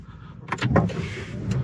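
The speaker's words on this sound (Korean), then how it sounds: "시동 한번 걸어 볼게요" A car engine being started: a short burst of cranking gives way to a low, continuous engine rumble close by, with a few brief mechanical clicks.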